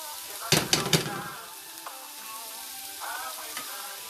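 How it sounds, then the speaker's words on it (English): Onions sizzle quietly in a pan for meatloaf, with a cluster of sharp utensil clacks against the pan early on and a soft continuous frying hiss underneath; no voices. "we're gonna let these onions cook down a little bit"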